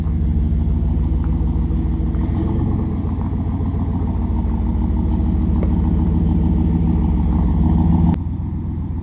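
A turbocharged 5.2L Dodge Ram pickup engine rumbles steadily up close as the truck moves off on a new clutch, its low drone shifting slightly when the clutch engages.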